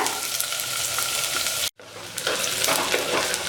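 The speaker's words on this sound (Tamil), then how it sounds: "சின்ன வெங்காயம் பச்சை மிளகாய் அப்புறம் பெரிய வெங்காயம் இதை சேர்த்து நல்லா பொன் முருகலாக வறுக்கலாங்க" Shallots, green chillies and onions fry in oil after mustard seeds pop, for hotel-style sambar, giving a loud, dense, close sizzle that cuts out for a split second before carrying on with light stirring.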